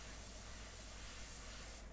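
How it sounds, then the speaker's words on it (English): An airbrush sprays paint through a stencil while finishing a portrait, giving a steady, close, continuous hiss that runs the whole time with no voices. "And you just put that there and you just spray through it."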